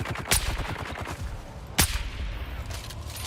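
Gunfire in the video game Dune, a dense run of rapid shots with two sharper, louder cracks standing out, continuous and close.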